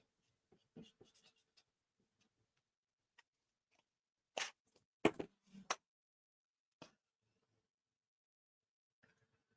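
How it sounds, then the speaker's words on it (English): Small red dots on a craft card are dabbed with a marker pen, giving a few sparse, faint taps and scratches separated by quiet gaps, with a tighter cluster near the middle. "So we're just going to colour in those dots"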